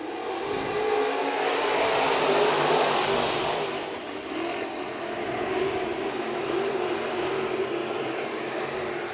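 Race cars at Bakersfield Speedway pulling away at the start of a heat race, a dense loud roar of several engines that swells and then holds steady without a break.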